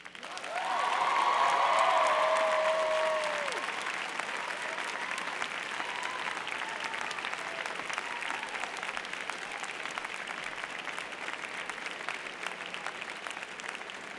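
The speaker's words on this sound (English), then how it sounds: "I would like the class of 2009 to give a very rousing round of applause" A graduating class at a 2009 journalism and communication commencement gives a rousing round of applause, a dense wash of clapping that swells early with a brief whistle and then holds steady, fairly distant.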